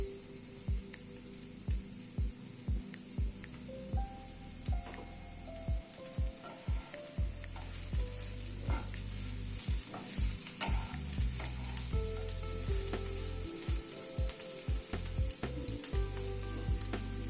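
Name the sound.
lentil cake pieces frying and being stirred in a pan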